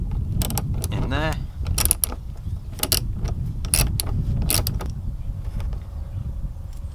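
Screws being unscrewed from a VW T5 van, with a run of clicking, creaking and metallic ratchet-like ticks and short scrapes, close and fairly quiet with no speech over them.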